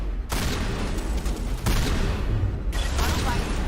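Sniper rifle fire in the video game Mass Effect: three loud broadband blasts come in quick succession, each cutting in abruptly over a dense, noisy game soundscape.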